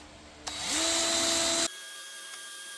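Power grinder spinning up and grinding rubber off a hot Nissan Sentra subframe bushing, a loud steady whine rising in pitch for about a second, then cutting off abruptly into a quiet room.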